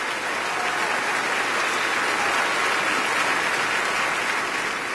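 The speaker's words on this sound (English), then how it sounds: "That deserves a round of applause." An audience at a 2013 awards ceremony for racing drivers gives a long round of applause: a loud, sustained and even roar of many hands clapping together, with no speech over it.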